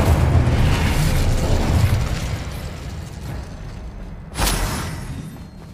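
Incendio fire spell cast in Hogwarts Legacy, a rumbling whoosh of flame with a booming burst that fades, then a sharp second burst near the end.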